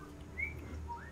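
A person whistles into a video game app, giving two brief, faint rising whistles over a low background hum.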